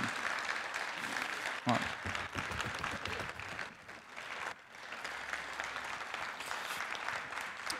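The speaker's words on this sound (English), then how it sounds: "Come on, give them a round of applause" A conference audience at WordCamp applauds its volunteers with sustained, full-room clapping. A voice is heard briefly over the applause.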